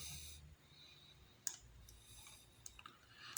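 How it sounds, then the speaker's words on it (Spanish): A computer mouse clicks sharply a few times, including a quick double click, close and crisp against a faint, quiet room background with soft breathing-like noise. "Damos doble clic sobre el relevador."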